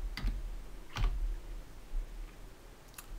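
Typing on a computer keyboard while searching a train booking site, heard as a few sparse, soft key clicks spaced roughly a second apart over a quiet background.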